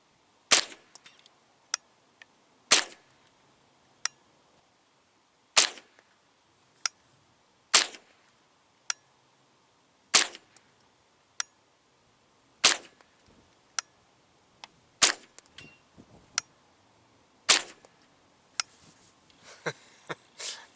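Gunshots ring out from target shooting outdoors, about a dozen sharp loud cracks spaced a second or two apart, some with a faint ringing after, with quieter handling noises between.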